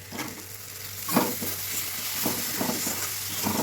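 Chicken pieces fry in a pan for a hill-style chicken recipe cooked at home, with steady sizzling and repeated scraping stirs at close range.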